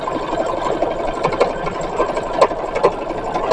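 An old sewing machine that has been in storage stitches linen seams for a 1916-style embroidered dress, a steady near mechanical whir with small periodic clicks and knocks, running alone.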